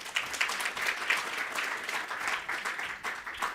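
Conference audience at a World Heritage Committee side event gives a warm round of applause for a speaker, steady close clapping throughout with no talk over it.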